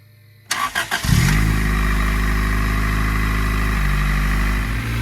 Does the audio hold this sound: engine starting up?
yes